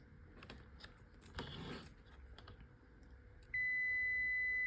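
After some faint clicking and handling noises, a multimeter's continuity beep comes in and holds steady while a car battery charger's transformer winding is being tested. The tone is clear and sustained.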